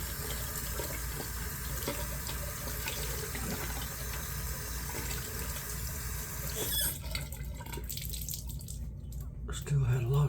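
Tap water runs steadily over a shaving brush lathered with Cajun Blade Atchafalaya soap as it is rinsed out, a continuous close splashing stream that breaks into quieter dripping and swishing near the end.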